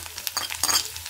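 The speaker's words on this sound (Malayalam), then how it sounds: "ചുവന്നുള്ളി ഒരു ബ്രൗൺ കളറാവുന്നത് വരെ നമുക്കിത് എണ്ണയിലിട്ടൊന്ന് മൂപ്പിച്ചെടുക്കാം" Shallots fry in oil for a country chicken curry, a close sizzle broken by brief scraping stirs and a couple of light metallic clinks.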